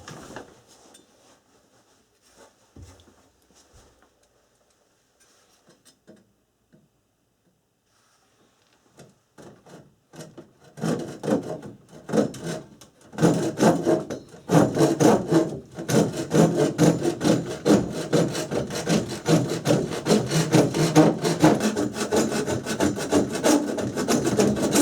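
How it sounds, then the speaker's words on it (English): Quiet scattered knocks give way to a saw rasping back and forth through a drain pipe in a wall, a steady rhythmic cutting that grows louder and continues. "I'm going to start cutting here. I'm going to pull that section of pipe out"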